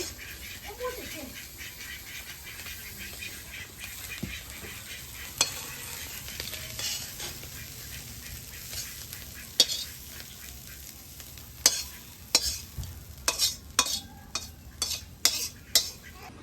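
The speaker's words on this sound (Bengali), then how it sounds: "চিংড়ি মাছ ভাজা হয়ে গেছে, সুন্দর মচমচ হয়েছে।" Prawns frying in a pan, a steady close sizzle that runs through the clip, with sharp utensil clicks and scrapes growing more frequent toward the end and some talking in the background.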